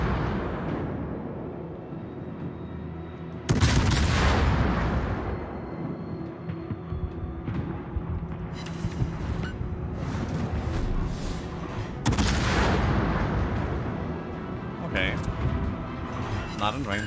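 Warship guns fire in the World of Warships game, with two loud booming blasts several seconds apart, each trailing into a rumbling decay over a constant low engine drone.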